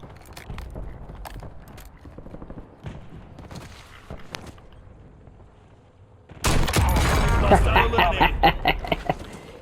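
Gunfire in the Warzone 3 video game: sparse sharp shots and clatter early on, then a loud dense burst of rapid fire filling the last few seconds, with game effects mixed in.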